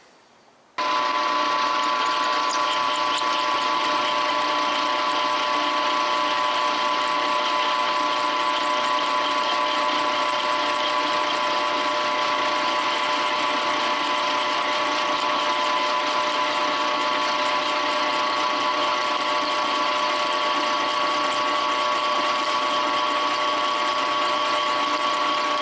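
An electric drill starts abruptly and runs continuously with a loud, steady high-pitched whine and mechanical buzz that never varies for the whole stretch, driving a tap for a 5/16-18 grub screw in a mower engine pulley.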